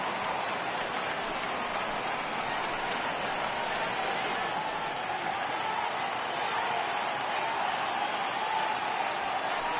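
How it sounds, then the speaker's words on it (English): A dense stadium crowd roars steadily for a full count in the video game MLB 18 The Show, Oakland at the LA Angels of Anaheim, under a commentator's talk. "Crowd gets up for the 3-2."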